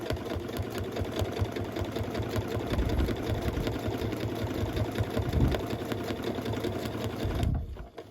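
A domestic sewing machine runs steadily while stitching a quilt made from fabric scraps, its fast rhythmic motor whir and needle chatter loud and close for about seven seconds before it abruptly stops.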